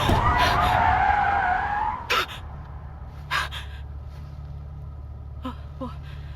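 A car skids in a driving video game, a green Lotus Elite on the A31 striking a pedestrian; a loud tyre screech fills the first two seconds, then a few sharp thuds over a low engine drone.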